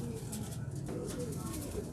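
Pigeons coo softly in a low, continuous murmur, a steady close-up cooing from a pair of flying pigeons, with faint voices at points.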